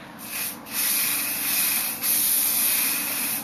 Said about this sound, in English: I'm going to start spraying a fine mist of the Era Everyday Foundation